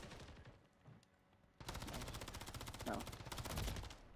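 Call of Duty gunfire breaks out as loud, rapid automatic bursts after a quieter opening, running fast and continuous near the player, with a brief spoken word heard early on.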